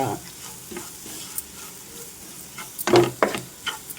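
Cauliflower masala fry is stirred in a pan, with a spoon scraping and knocking against the metal over a soft sizzle, ending in a cluster of louder scrapes near the end.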